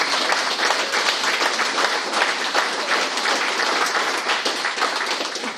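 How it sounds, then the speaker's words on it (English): Large crowd at a Wicklow GAA evening event applauding heartily, a thick, even roar of many hands clapping that carries on for over five seconds without letting up. "a huge round of applause goes to Bridget Kenny, our PRO, for a magnificent job"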